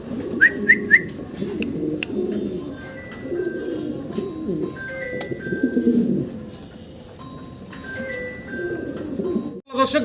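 Caged pigeons at a sale, including checker-patterned birds, coo in a steady low chorus that carries through the whole stretch, with a few thin whistles and chirps above it and no speech.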